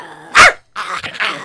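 A voice imitates a long-haired chihuahua, giving one sharp, loud yappy bark followed after a pause by a rougher run of growly, barking sounds, close and alone.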